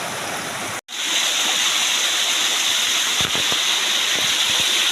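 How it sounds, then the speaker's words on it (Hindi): A waterfall about 50 feet high pours in a loud, steady broadband roar, cut by a brief gap near the start, heard close with no talk. "ये भी वाटरफॉल है"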